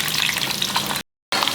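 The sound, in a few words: frying chopped onion with cumin and mustard seeds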